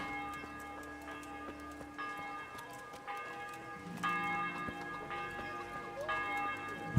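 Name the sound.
church bell rung by player in video game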